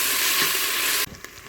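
Bacon lardons brown in a Cookeo multicooker, a loud close sizzle that cuts out abruptly, leaving a few soft clinks and stirring sounds.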